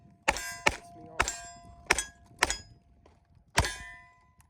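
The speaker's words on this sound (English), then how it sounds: "I wish all the steel targets made that ping noise" Bullets strike a steel shooting target at a ranch range, giving six sharp metallic pings in an uneven rhythm, each ringing briefly before fading, with no talking.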